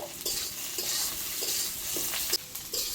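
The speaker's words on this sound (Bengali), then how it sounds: "পেঁয়াজটা আমি লাল লাল করে ভেজে নেব।" Chopped onions frying in a pan with cardamom and cinnamon, a steady close sizzle broken by rhythmic scraping stirs every half second or so.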